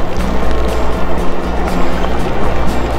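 Torrential rain pours down during an outdoor ride on an Engwe L20 e-bike, a dense, steady roaring hiss of water that stays loud and unbroken throughout, with no voices.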